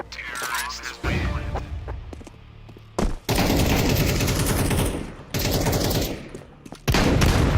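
Loud, dense bursts of gunfire from the video game Counter-Strike 2 fill most of the clip, with short pauses between the volleys and a voice briefly heard at the start.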